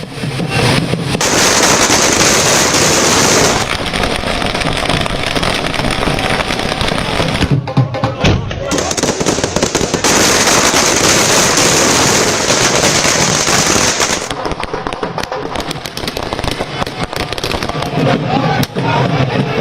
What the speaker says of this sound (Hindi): रात तक दिल्ली में दिवाली शुरू हो गई, पटाखे फोड़े जाने लगे